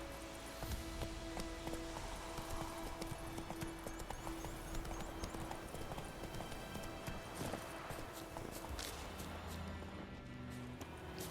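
Roach the horse's hooves clip-clopping steadily in The Witcher 3 game, a close rhythmic trot mixed with game music and ambience, no talk.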